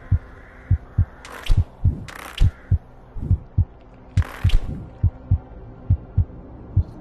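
Near-death heartbeat effect from the VR game In Death Unchained, a steady series of loud, close double-thump beats pulsing at a regular rhythm across the whole stretch, with brief hissy bursts of game sound between some beats and no talking.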